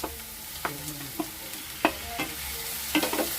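Tomato dropped into a pan of browned onions for a squid dish, giving a steady low sizzle broken by several sharp scraping stir strokes spaced through the moment, close and fairly quiet.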